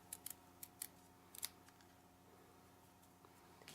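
Scissors trim paper for a craft, giving several quick, crisp snips in a small cluster and then a couple more, close and quiet against a near-silent room.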